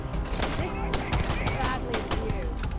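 Repeated shots from a scoped gun in Starfield, a steady run of sharp cracks at close range under continuous game ambience, with a voice talking over it.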